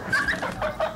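A chicken in Fortnite gives a quick run of short, fairly close clucks and chortling squawks in a brief burst.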